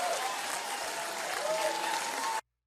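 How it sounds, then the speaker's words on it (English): Audience applause at the close of Jeff Buckley's "Dream Brother" recording, a dense, steady wash of many hands clapping for about two and a half seconds before it cuts off abruptly. "And then you'll hear them all clap."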